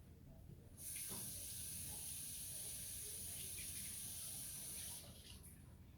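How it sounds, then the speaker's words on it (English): A kitchen tap runs in a steady, bright hiss for about four seconds while a cook rinses seasoning off a hand under the water, starting and stopping abruptly, with no talking. "Let me rinse my hand off."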